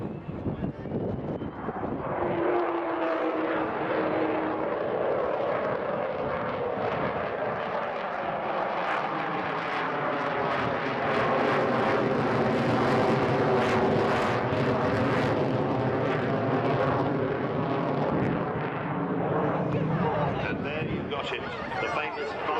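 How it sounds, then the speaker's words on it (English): The Avro Vulcan XH558 delta-wing bomber's jet engines power up as it pulls into a spiral climb at the Weston Super Mare Air Festival 2015, a loud sustained roar that swells and rumbles continuously, with a shifting whine riding over it. "And in a minute, I expect to see Bill Ramsey put the power on as he goes into a spiral climb."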